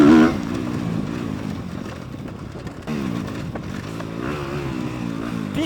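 A Kawasaki KX 250 motocross dirt bike engine drones and revs steadily on a dirt track, rising and falling in pitch as it accelerates, fairly close and continuous throughout.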